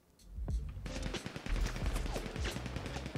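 Rapid bursts of automatic gunfire in GTA V, dense and fairly close, rattling on continuously after a quiet start, with a faint voice briefly underneath.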